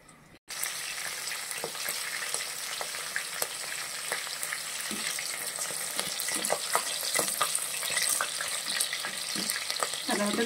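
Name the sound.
slit green chillies frying in a pan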